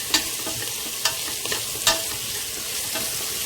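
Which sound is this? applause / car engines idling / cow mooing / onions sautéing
onions sautéing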